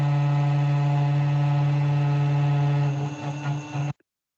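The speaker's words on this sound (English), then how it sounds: "I produce some G code for my CNC router, which you can see" CNC router milling a printed circuit board, a loud steady tonal whine with strong harmonics that roughens near the end before cutting off abruptly.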